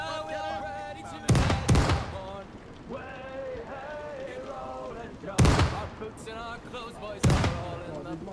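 Ship cannons boom in Nassau 1715, three heavy blasts spaced a few seconds apart, while people talk over them throughout.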